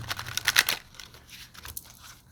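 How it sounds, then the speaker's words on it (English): Tarot cards shuffled by hand, giving a quick burst of papery riffling and flicking up close, then fainter brushing and shuffling. "I'm gonna go ahead and shuffle because I did not separate those cards."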